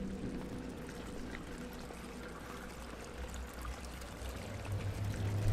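Water pours steadily in the dark, eerie setting of the horror game Amnesia: The Dark Descent, a continuous low trickling stream that holds for several seconds and swells slightly louder near the end.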